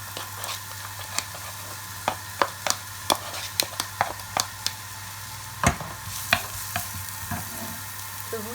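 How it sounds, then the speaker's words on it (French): Onions and garlic frying in hot olive oil, a light sizzle with irregular sharp clicks and scrapes from stirring against the pan, heard close with no talking over a low steady hum. "Et une fois l'huile chaude, vous y faites revenir vos oignons avec l'ail"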